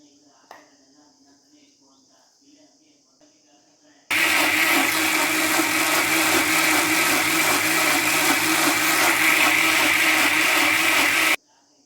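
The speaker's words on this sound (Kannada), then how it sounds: "ಈಗ ಮಸಾಲೆ ರುಬ್ಬಿದ್ದೀನಿ" A mixer grinder grinds masala for mushroom chops, a loud, steady whirring roar that starts abruptly after a few quiet seconds and runs continuously before cutting off sharply near the end.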